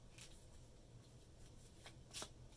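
A deck of playing cards being shuffled during a tabletop card game, heard as faint soft riffling and a short flutter of cards against steady background noise.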